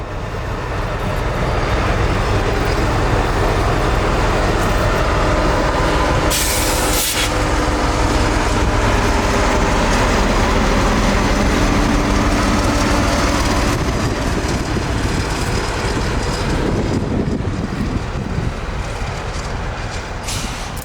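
An SD23T4 locomotive with a Wabtec 6-cylinder engine rolls past hauling a work train in Florida, a loud, continuous rumble and rattle of wheels and cars sustained throughout, close by.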